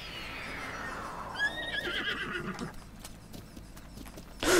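A horse in The Legend of Zelda: Breath of the Wild whinnies with a falling, drawn-out neigh, then clip-clops along in soft, regular hoofbeats, closing with a sharp louder thud.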